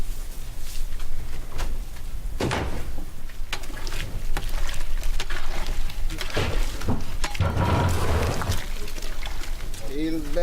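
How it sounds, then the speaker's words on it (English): Cold water pours into a pot of cooking potatoes outdoors, a steady rushing splash that runs for several seconds, with people talking over it. "we're gonna put some cold water on them, cool this pot down"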